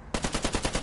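Rapid gunfire in the VR video game Killing Floor: Incursion, a tight burst of about eight loud, evenly spaced shots fired in under a second.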